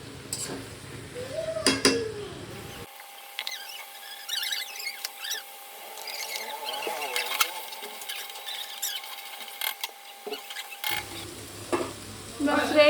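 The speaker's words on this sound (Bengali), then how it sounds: "একটু কাশ্মীরি লঙ্কার গুঁড়ো আর গরম মশলা দিয়ে নাড়িয়ে একটু নুন দিয়ে নাড়িয়ে ঢাকা দিয়ে দিচ্ছি" A spoon scrapes and stirs cabbage curry with Kashmiri chilli powder, garam masala and salt in a pan, with soft clinks and a faint sizzle, while someone talks over parts of it.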